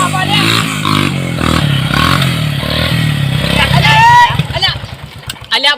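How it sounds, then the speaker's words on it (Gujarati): A motorcycle engine runs and revs nearby, loud and steady, with people talking over it and some clattering near the end. "શું અવાજ કરે તાર બાઈક"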